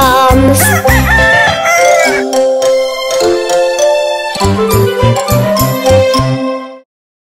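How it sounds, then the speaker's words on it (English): A loud rooster crows up close, its drawn-out call mixed with clucking and a bright musical backing that cuts off abruptly at the end. "Hear the cockle-doo of the rooster loud everywhere"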